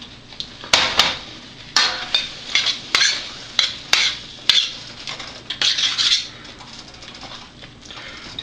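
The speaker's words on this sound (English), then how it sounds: "What we're going to do now is we're going to add that sausage back into it." Sausage is stirred back into simmering gravy with a utensil, repeated scraping clinks and stirring strokes against the pan at an irregular rhythm, close and fairly loud.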